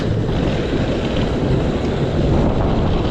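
Strong wind on a seaside pier roars and buffets constantly against the microphone, a loud, unbroken rush with no voices.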